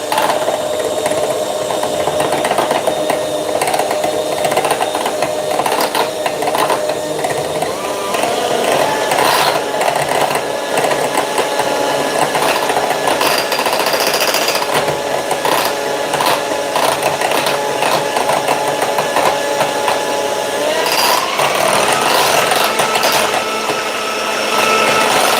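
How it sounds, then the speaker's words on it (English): Heavy cream being whisked with salt, cocoa powder and vanilla for ice cream, a loud, steady mechanical whirring that runs without a break the whole time, with no talking. "I'm just going to whisk this up"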